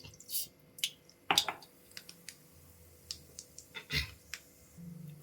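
Mustard seeds dropped into hot oil while tempering a Telugu tomato pickle give sparse, faint, irregular pops and crackles, close by, with quiet gaps between them.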